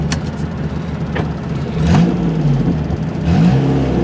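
A Ford Fiesta driven for the first time in 17 years, a close car engine that whirs steadily and then revs up twice as it picks up speed.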